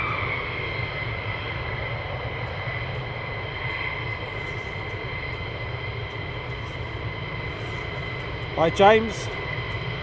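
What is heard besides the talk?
F-15 fighter jets departing at RAF Lakenheath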